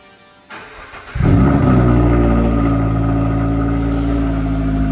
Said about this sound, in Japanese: エンジンかけて